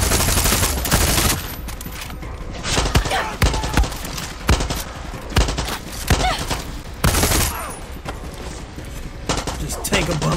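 Anti-aircraft gunfire in Far Cry 6: loud, heavy bursts of repeated shots hammering in clusters across the whole stretch, with brief lulls between volleys.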